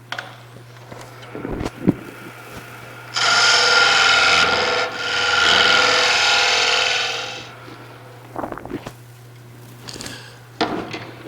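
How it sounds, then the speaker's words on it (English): A scraper held against spinning wood on a wood lathe gives two long, loud rasping passes in the middle, with scattered taps and handling knocks before and after, and a low motor hum running under everything. "we're going to try and use the scraper to make it smooth"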